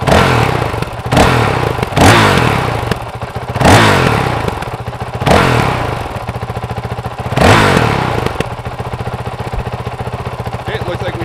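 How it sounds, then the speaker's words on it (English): Honda CRF450L motorcycle fitted with a Yoshimura RS-4 exhaust, revved repeatedly in loud, close bursts that rise and fall back to idle about five times. "so now we'll go and rev it up."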